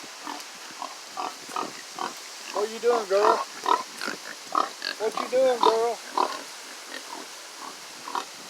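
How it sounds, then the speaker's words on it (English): Farm pigs grunt and snort in short bursts at close range, mixed with a person talking to them in a soft, coaxing voice. "come over and look at the pigs."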